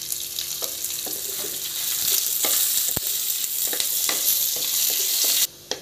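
Curry leaves hit hot oil already holding browned onion, urad dal and chili, crackling in a loud, continuous sizzle with scattered pops and stirring clicks, close up and without talk, before stopping abruptly.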